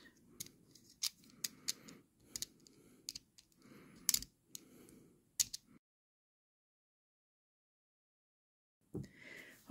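Scissors snip repeatedly through a pacifier being modified for a reborn doll, giving close, crisp cuts in an uneven rhythm, then a long silence and one last faint rustle.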